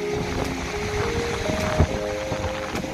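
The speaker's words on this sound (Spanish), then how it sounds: "ha tardado en llegar el oleaje, pero ha llegado" Sea waves wash and break continuously on a beach at Carchuna during a surfcasting fishing outing, a steady rushing roar mixed with wind buffeting the microphone, with no talk.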